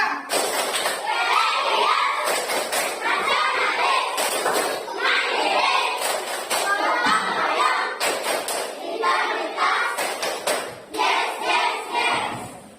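Elementary pupils in a fifth-grade class run through a longer patterned clapping chant, sharp claps landing in a quick, repeated rhythm beneath their loud unison voices.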